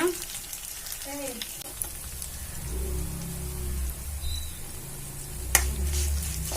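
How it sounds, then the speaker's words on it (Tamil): Spices splutter and fry in hot oil in a pan for idli upma, giving a close, continuous crackling sizzle with scattered pops and one sharper snap near the end. "நல்லா பொரிஞ்சிடுச்சு."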